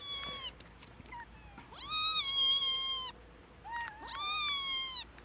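Cats and kittens meow over a beef chew: two long, loud, drawn-out meows stand out, with shorter, softer calls scattered between them, all close by.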